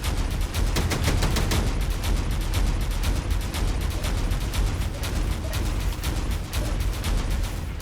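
Rapid video-game gunfire fires at an unknown signal, a steady loud stream of automatic shots that runs with no break for about eight seconds.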